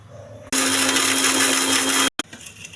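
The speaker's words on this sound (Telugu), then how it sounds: "మిక్సీ వేసుకోవాలి." A mixer grinder whirs loudly and steadily for about a second and a half, grinding coconut, salt, tamarind and dried red chillies for peanut chutney, then cuts off abruptly with a brief restart blip.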